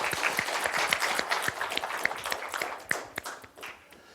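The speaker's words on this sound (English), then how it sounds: "Let's give him a round of applause" An audience at an economic outlook talk applauds a speaker, a dense wash of many hands clapping steadily that thins and tapers toward the end, heard close and alone without speech.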